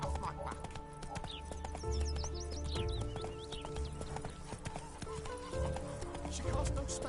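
Horse hooves clip-clop steadily in a video game, close and rhythmic, mixed with a neigh, game music and ambient effects while someone talks.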